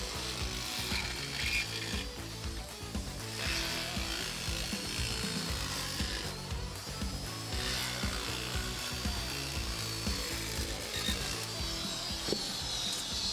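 An air nibbler cuts through the steel body panel of a Porsche 356 Speedster around a gas door opening, giving a continuous rapid mechanical chatter and rasping bite, loud and close, with slight surges in intensity throughout.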